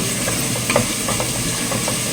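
Onions sautéing with salt in a pan, a steady soft sizzle and hiss with occasional light stirring scrapes, close and continuous.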